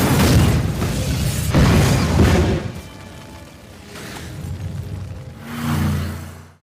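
A film explosion at a boat fuelling station: heavy booming blasts and rumbling bursts with debris whooshes, loud and close, swelling again near the end.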